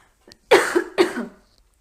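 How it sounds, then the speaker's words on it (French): Two sharp, close coughs about half a second apart, the second trailing off slightly, with near silence around them. "Excusez-moi, je vais tousser."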